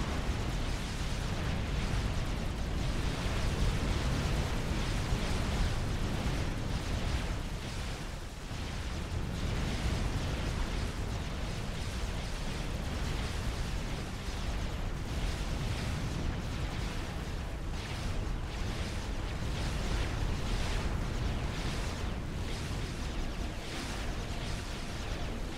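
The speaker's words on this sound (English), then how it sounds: "Explosions, death, and a lot more explosions." Constant dense barrage of explosions and booming artillery-like blasts from a real-time strategy battle in Supreme Commander: Forged Alliance, Aeon Illuminate mission, loud and continuous with no pauses throughout.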